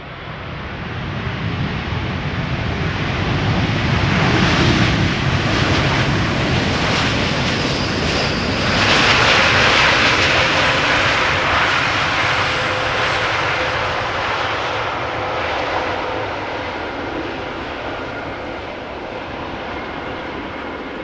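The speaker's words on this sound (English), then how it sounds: "This is KLM Flight 644, arriving from New York, JFK, 787-10 Dreamliner" A KLM Boeing 787-10 Dreamliner, two years old, lands at Schiphol Airport after a flight from New York JFK. Its jet roar is loud and sustained with broad rushing noise, swells near the middle and then slowly fades.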